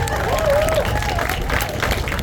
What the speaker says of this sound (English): You can applaud that one real quick.